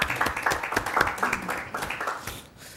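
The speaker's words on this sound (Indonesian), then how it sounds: "Kita beri tepuk tangan kepada Pak Bambang" An audience at a corporate talk breaks into lively applause, a dense burst of clapping that holds steady before tapering off over about three seconds.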